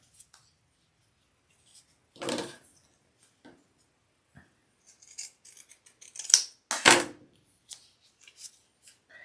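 Scissors trimming bag fabric for a shoulder bag's lining and exterior, a few crisp, scattered snips separated by quiet pauses, close up and with no voices.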